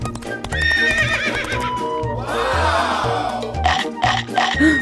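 Horse neighing and whinnying loudly and close, with steady clip-clopping hooves beneath and several whinnies rising and falling across the stretch, no talk over it.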